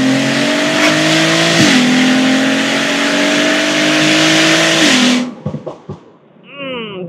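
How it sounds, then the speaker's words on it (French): A turbocharged VR6 engine in a classic Volkswagen revs loudly and holds a steady high drone, shifting pitch twice before cutting off, followed by sharp turbo blow-off puffs and a whistling spool-down. "D'origine, ça souffle pas comme ça, les gars. Là, il y a un petit turbo dessus."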